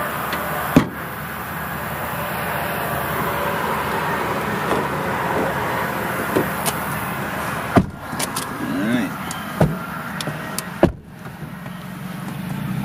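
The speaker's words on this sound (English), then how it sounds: "we'll go ahead and get in the car." Car doors opening and slamming shut as people get into a car, several sharp thumps at intervals over a steady outdoor background hum.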